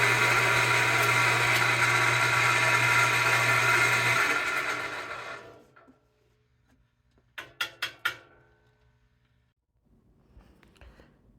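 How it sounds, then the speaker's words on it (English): A small wood lathe drills into a plastic pen blank, whining loudly and steadily for several seconds before spinning down to quiet, followed by a few brief knocks and faint handling sounds. "Here I am setting up our smaller wood lathes to be able to drill the plastic."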